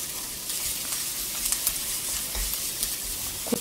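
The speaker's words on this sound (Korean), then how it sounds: "고추도 넣어서 볶아주세요" Onion and chili stir-frying in oil, likely perilla or sesame oil, with scallions for a Korean snail ssamjang side dish: a steady close sizzle with light scraping stir sounds throughout, no talking.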